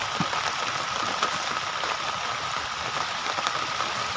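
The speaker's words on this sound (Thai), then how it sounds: "ฝนก็ตก" Rain falling outdoors, a steady hiss of drops pattering on surfaces with occasional sharper taps, even and continuous with no talk.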